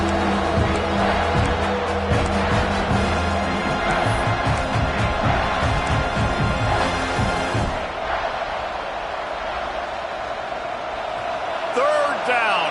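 A football stadium crowd in a video game roars in a steady wash of cheering, loud and continuous under a play-by-play commentator's voice and music.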